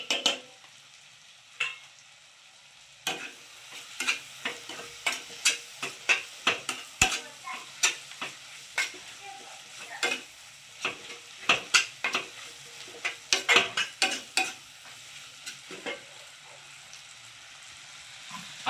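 Onions and tomatoes fry in a pan for egg pulao with a steady sizzle. A spoon scrapes and stirs against the pan in repeated sharp clicks, close and continuous throughout.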